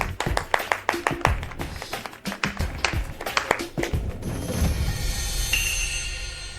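A handful of office colleagues give sparse, uneven claps, a few distinct slaps spaced irregularly before trailing off into room noise.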